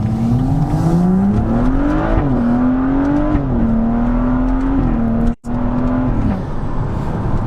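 A car pulls away from a junction, its close engine note climbing steadily and holding a rising drone for several seconds with a brief dropout near the end, no talking.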